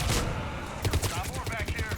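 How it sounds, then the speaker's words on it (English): Gunfire in Mass Effect 3 during a battle on Palaven, with loud rapid shots and thudding impacts close up, building into denser bursts toward the end. A voice can be heard faintly under the fire. "Stop shooting me."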